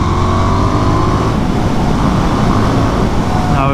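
A 2024 KTM Duke 990 motorcycle engine pulls hard under acceleration, a loud, close, continuous roar with a dense rumbling throb and rising pitch, heard from the rider's position with steady wind noise.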